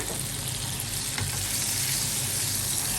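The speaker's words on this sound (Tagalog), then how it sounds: "Sa isang pan, ngayon, ang gagawin natin ay una, ihalo natin or ilalagay natin yung ating butter." Two tablespoons of butter sizzle and crackle steadily in a pan as they are stirred, a dense, even frying hiss close by with no one talking.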